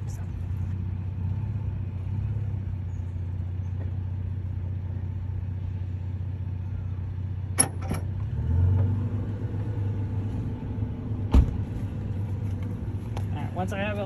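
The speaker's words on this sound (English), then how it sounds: "I'm gonna hop in my truck and I'm gonna back it up and line the ball up with this part" Pickup truck idling and creeping in reverse while lining its hitch ball up with a Forest River Wildwood FSX travel trailer, a low steady engine rumble with a couple of sharp clunks and a brief rise partway through.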